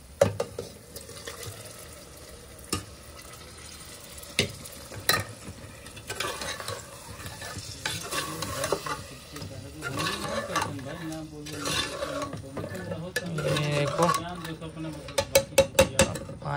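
Liver and potato fry in a pan with a steady sizzle while a spoon stirs and scrapes, sharp metallic clinks breaking through at intervals and a few faster knocks near the end.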